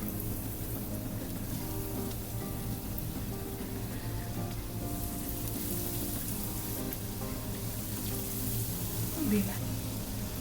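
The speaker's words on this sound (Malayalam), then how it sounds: "ഡോനട്ട് വറുത്തെടുക്കാനായിട്ട് ഒരു പാനിൽ എണ്ണ ഒഴിച്ച് നന്നായിട്ടൊന്ന് ചൂടാക്കി എടുത്തിട്ടുണ്ട് ഇനി ഓരോന്ന് ഇതിലേക്ക് ഇട്ട് കൊടുക്കാം" Chicken donuts fry in hot oil in a pan, a steady, even sizzle and crackle, close by and constant, with a low hum underneath.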